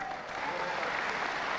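An audience at an annual member meeting and celebration applauds, a steady dense wash of clapping from a crowd that holds at even loudness throughout.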